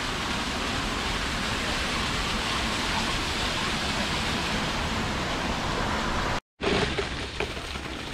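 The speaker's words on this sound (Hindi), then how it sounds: "गाइस देखो पानी का प्रेशर कितना तेज है, इसने बाल्टी तोड़ दी है" High-pressure water gushes hard into a bucket in Joshimath, a loud, unbroken roar that drops out for a split second near the end, then resumes slightly rougher.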